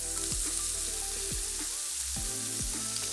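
Chopped bacon and sun-dried tomatoes fry in olive oil with a loud, constant crackling sizzle, broken by a few low thuds and scrapes as the pan is stirred, close up and without talking.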